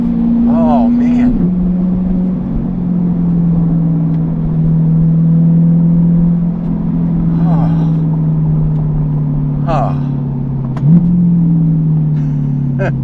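A 2020 Chevrolet C8 Corvette engine drones steadily at close range, its pitch rising and falling with revs, with a few short exclamations breaking in over it.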